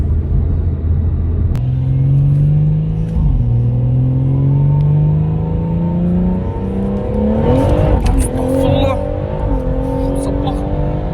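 A tuned BMW 140i stage 3 pulls hard, its engine climbing in pitch through repeated gear changes with loud close rumbling, while people talk and exclaim over it.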